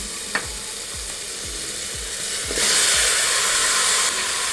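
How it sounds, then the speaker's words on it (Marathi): Chicken sizzles steadily in a hot pan while a utensil scrapes and stirs it in a regular rhythm, the frying hiss swelling louder partway through. "हे चिकन साधारण तीन ते चार मिनटं सतत मिक्स करत राहायचं आहे परतवत राहायचं"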